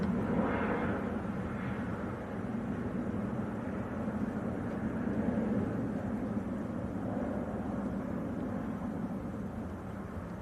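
Aircraft taxiing at Manchester Airport, a steady low distant rumble with broadband hiss lasting throughout, fairly faint and unchanging, no voices.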